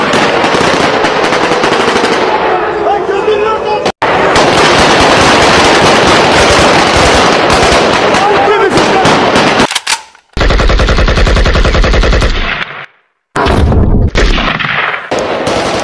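Rapid, loud machine-gun bursts and dense gunfire fill a staged scene in a musical drama, running nearly continuously with a few abrupt breaks and no speech.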